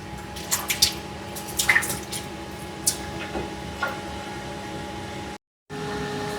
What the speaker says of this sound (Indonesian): Ini aku mau rendam pokcoynya dulu ya teman-teman, biar pasirnya pada keluar.